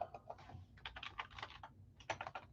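Rapid clicking of fingers typing on a computer keyboard to enter jersey names during a live sports card break, a close, quiet stream of uneven keystrokes in short bursts.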